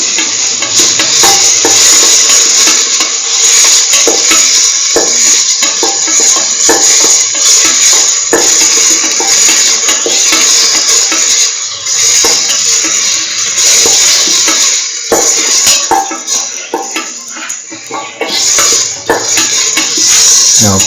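Curried lentil rice sautés in a pan as a utensil scrapes and stirs it, a steady close sizzle with repeated metallic clinks and scraping strokes against the pan.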